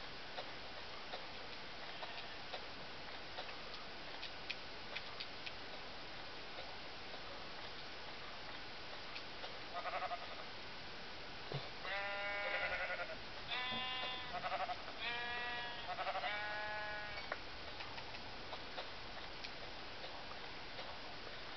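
Sheep in a video game bleat in several short, quavering calls over a quiet, faint background, following a steady soft ticking, with no talk during the clip.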